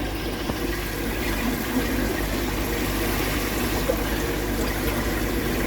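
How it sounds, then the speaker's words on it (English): An aquarium air pump feeding an outer ring and air stones keeps the tank water bubbling, a loud steady churning hiss and gurgle with a low motor hum, unbroken throughout. "Now, I just got one air pump running the outer ring."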